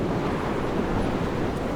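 Steady, broadband wind rushing and roaring without pause in the video game Dear Esther, a dense low rumble filling the whole stretch with no voices.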